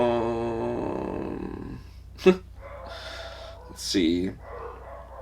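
Dogs indoors let out a couple of short, sharp barks, one quick and one longer, over a steady low hum while a person talks nearby.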